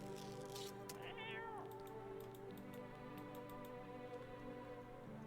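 A cat meows once, faint and close, amid the steady hum and ambient tones of a video game, followed by light ticking clicks.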